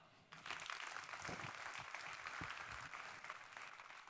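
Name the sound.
audience applause for a volunteer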